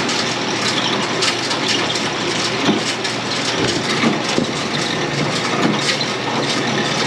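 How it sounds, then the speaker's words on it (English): A pepper washing machine running on a farm at harvest time, a loud, steady mechanical rumble and clatter with faint rhythmic knocks, continuous throughout. "that's why we're running them through our washer"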